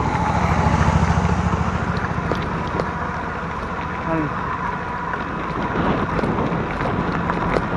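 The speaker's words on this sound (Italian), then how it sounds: "Ora c'è anche un motorino." A moped passes on a road during a bicycle ride, its engine droning loudest near the start and then fading, while wind buffets the microphone.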